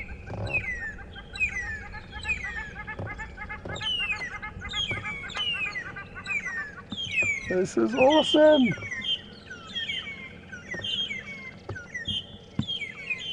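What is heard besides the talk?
Burchell's starling squawking and birds calling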